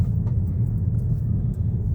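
Car with worn axles that may be failing, a low rumbling drone heard from inside while the vehicle moves, steady and moderately loud with no one speaking.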